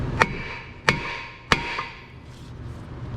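Three sharp metallic hammer strikes on a Subaru Outback rear brake rotor, evenly spaced about two-thirds of a second apart, close and ringing briefly, then quiet shop background.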